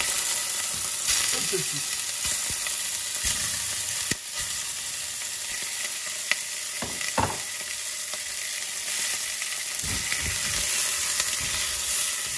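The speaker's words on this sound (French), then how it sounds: "Et je vais y mettre mes morceaux de viande, juste pour les faire dorer." Beef pieces browning in olive oil in a heavy stewpot for a tajine, a steady close sizzle with occasional clinks and scrapes of stirring, and a brief spoken word early on.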